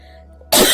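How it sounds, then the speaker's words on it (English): A single harsh, loud cough bursts out abruptly after half a second of near silence, close to the microphone. "I have a coughing fit."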